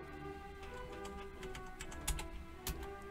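Faint clicking of keys on a computer keyboard while entering code, a few sharper keystrokes standing out near the end over a steady low hum, with no voices.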